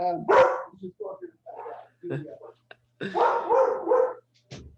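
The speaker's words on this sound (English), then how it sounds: "Excuse me, that's my dog." A short-haired pointer barks in several sharp bursts at home, loud and close, mixed with someone talking over it.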